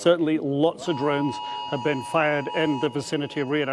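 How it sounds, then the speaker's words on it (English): An air raid alarm sounds in Riyadh as a steady, sustained tone that continues beneath close, continuous talk from a speaker. "That's the alarm going off again."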